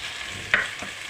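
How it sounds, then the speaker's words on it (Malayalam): Ginger, garlic and curry leaves sautéing in oil for a fish curry make a continuous sizzle, with one sharp stirring scrape in the middle and a softer tap shortly after. "കറിവേപ്പില ഇട്ട് കൊടുത്ത് നല്ലോണം വഴട്ടിയെടുക്കുക"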